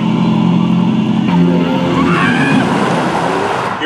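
A 2023 Mercedes-AMG EQE electric sedan drives along, producing a loud, continuous rush of road and motor noise that rises slightly partway through, with no talking.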